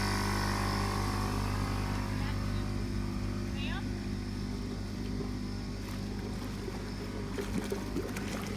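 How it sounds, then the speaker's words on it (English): Air from a compressor is forced through a pool skimmer line while a pool is being closed, making a constant, loud rushing drone with a low rumble that goes on without a break. "now that compressor is trying to find the next easiest hole"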